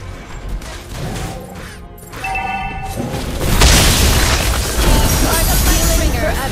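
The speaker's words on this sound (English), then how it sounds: "Your team destroyed a turret." A turret collapsing in a MOBA-style game: a deep boom and crashing debris building over several seconds, loud and sustained, with game announcer voice lines and chimes around it.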